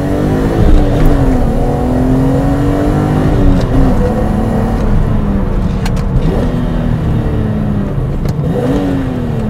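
A BMW Z3 M Coupe (E36-8) engine rises and falls as it is driven, its revs climbing and dropping several times in a loud, continuous note heard from inside the car with no talking.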